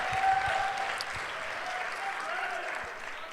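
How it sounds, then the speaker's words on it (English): Applause from a church congregation, a steady wash of many hands clapping at moderate distance, holding evenly before easing slightly at the end. "So if you guys could give a big round of applause for him"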